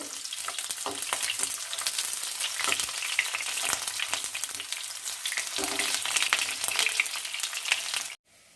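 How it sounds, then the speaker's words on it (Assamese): Onions frying over a low flame in hot oil in a wok, a continuous loud crackling sizzle with soft stirring scrapes, stopping abruptly near the end. "এতিয়া মই পিয়াজ দি দিছো।"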